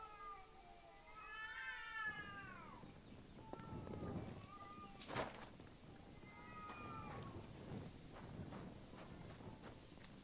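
Cats fighting in Kingdom Come Deliverance II: repeated wavering yowls and caterwauls trade back and forth, punctuated by scuffling thumps and a sharp crack midway, moderately distant and fairly quiet.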